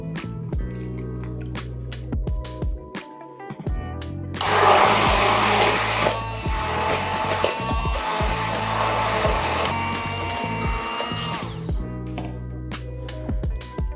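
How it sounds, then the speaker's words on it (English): An electric hand mixer whirs loudly for several seconds beating eggs, its motor steady and close, between quieter clattering sounds before and after. "For now, I'm just gonna use a hand mixer."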